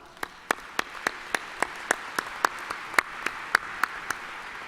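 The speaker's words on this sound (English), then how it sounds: "Please give them a round of applause" At a college commencement in an arena, sharp, evenly spaced claps ring out roughly every quarter second over a faint crowd hum, close and steady, more like one or a few clappers than a full audience ovation.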